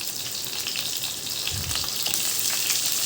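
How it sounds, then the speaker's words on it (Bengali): Long-cut potato strips coated in salt and turmeric fry in a little oil, giving a close, steady crackling sizzle with scattered pops for about three seconds. "মাখিয়ে দিয়ে আলুটা একটু ভেজে দিচ্ছি মাছে"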